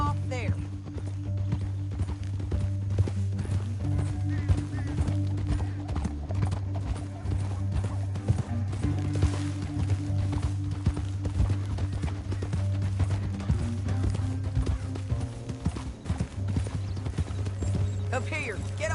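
Horse hooves clip-clop steadily in Red Dead Redemption 2, a continuous rhythmic trot over a low rumbling game soundscape, with riders talking over it.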